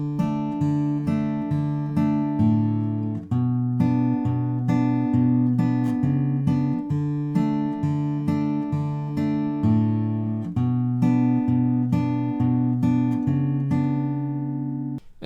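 Steady fingerpicked acoustic guitar plays the chorus of a song, rolling arpeggios over shifting chords with a bright, even rhythm, played alone and close.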